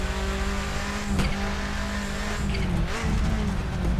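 A 1995 Subaru Impreza WRX STI Version 2 racing in Assetto Corsa, with a steady engine drone and gear changes near the end. The car sits close and loud, and a few tyre scrubs come through with no talk over it.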